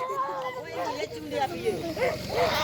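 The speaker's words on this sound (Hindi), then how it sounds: "ये चक्कर कुत्ते पीछे लगे हुए" Several dogs bark and yip in an excited jumble, mixed with people talking nearby.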